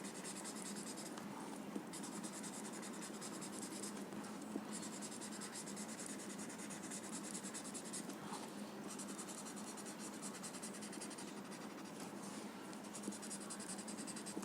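A gray watercolor pencil scratches steadily across paper while shading a Zentangle drawing, giving a soft, continuous close-up scratching and rubbing with no talk.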